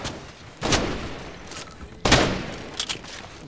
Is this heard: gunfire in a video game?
yes